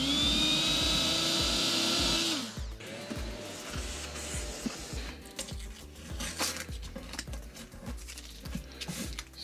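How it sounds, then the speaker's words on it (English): A high-pitched power drill whines loudly for about two seconds as it bores a hole for a ceiling lamp's power cable and stops, followed by quieter clattering and tapping of handled material. "Here I'm going to drill one more hole exactly in the middle of this thing"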